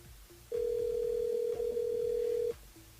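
A telephone line rings during a live radio call, one steady two-second tone sounding loud and clear over faint background noise.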